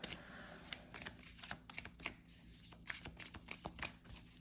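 Tarot cards shuffled during a Pisces reading, a close, brisk riffling with repeated rhythmic bursts of papery flutter and slaps that continue without pause.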